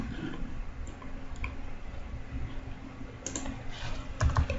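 Keys tapped on a computer keyboard while typing a short search phrase, soft scattered clicks over a steady background hum, with a brief quicker burst of keystrokes near the end.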